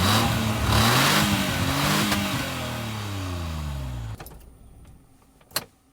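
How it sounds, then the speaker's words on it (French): A cold V6 engine in a 1996 Renault Espace II idles while warming up, running with a low, uneven rumble and rising harmonic tones, then cuts to quieter mechanical noise with a sharp click near the end. "le moteur il a un petit peu du mal"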